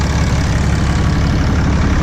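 A Cummins diesel truck engine idles with its exhaust pipe removed, giving a steady, close, loud low rumble that runs unbroken without any voices.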